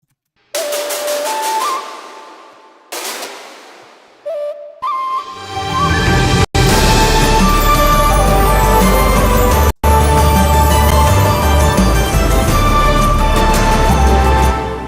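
An original song's epic dubstep drop plays back loudly. Sparse synth notes with short gaps build into a dense, heavy bass-laden drop, broken by two brief dropouts, with no talking.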